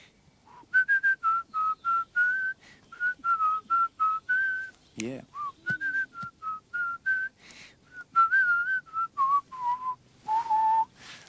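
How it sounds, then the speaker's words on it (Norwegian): A man whistles a song melody in a steady run of clear, sustained notes with short gaps, close and fairly loud, with a brief spoken word and a little talk in the middle. "Jeg kan plystre den"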